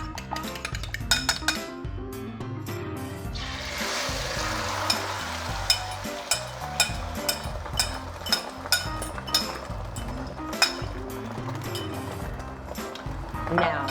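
Scrambled eggs hitting a hot pan for fried rice, a burst of loud sizzling mixed with clinks of utensils against the pan and a voice talking throughout.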